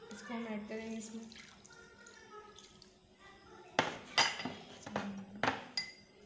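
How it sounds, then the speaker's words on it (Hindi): A cup of vinegar poured over sliced chicken in a bowl: soft liquid splashing and dripping, then several sharp clinks of the dish and utensil, with a voice briefly heard at the start. "ये एक कप सिरका है, इसको हम ऐड करेंगे इसमें।"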